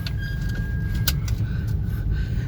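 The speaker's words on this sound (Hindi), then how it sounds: "आप सुन सकते हैं गाड़ी के अंदर आवाज़ थोड़ी सी बढ़ गई है" Steady low rumble of road and engine noise inside a moving Hyundai Santro CNG with 50,000 km, cabin noise noticeably increased, with a faint whine and light rattles, no one speaking.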